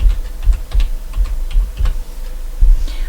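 Computer keyboard typing close by, a quick run of sharp key clicks in irregular bursts with short pauses, no talking.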